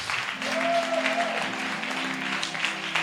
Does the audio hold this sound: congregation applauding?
yes